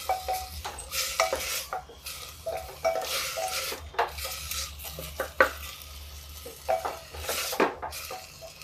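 Green and Kashmiri chilies stirred in a pan over a high gas flame, with steady sizzling and frying under repeated close scraping and clinking of a spoon against the pan, a low burner rumble running beneath.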